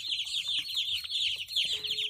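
A flock of young chicks chirps and peeps loudly and continuously up close, a bright, shrill overlapping chatter with a faint low murmur underneath.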